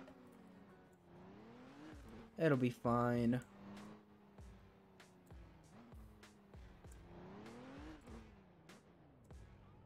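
A car drives around in the video game Roblox, its engine tone rising and falling as it accelerates, with a sharp, loud horn-like burst partway through. A person talks over it.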